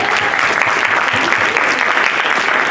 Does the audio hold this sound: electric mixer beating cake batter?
no